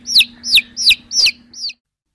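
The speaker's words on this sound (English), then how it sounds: "Tikloo Farmer has many chickens in her farm" Chickens clucking as a farm story sound effect, five sharp, evenly spaced bird calls in a row, loud and close, ending abruptly into silence.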